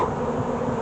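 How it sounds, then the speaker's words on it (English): Honeybees in a newly installed package hive make a continuous dense buzz, close and steady, with no breaks or voices. "bee activity"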